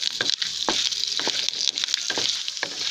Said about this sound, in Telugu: వీటిని ఫ్రై అయ్యేంత వరకు ఫ్రై చేసుకుందాం।